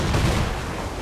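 A brief, loud burst of rapid gunfire in Assassin's Creed IV: Black Flag, dense and rumbling, heard alone in a single short volley during a naval battle.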